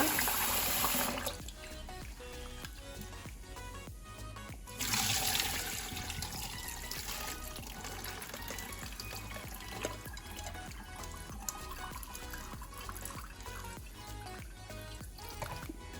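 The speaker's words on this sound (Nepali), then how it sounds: "म यसलाई अब राम्रोसँगले पखालेर पानी तारेर राख्छु।" Water runs and splashes as flattened rice is rinsed and swished in a bowl, then the water is poured off, over a faint musical background.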